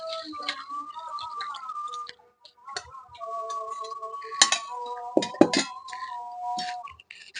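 A cooking pot of ridge gourd and red lentil dal lifted off a kitchen stove, giving a series of close metallic clinks and clatters of pot and utensils against the burner, with quiet gaps between.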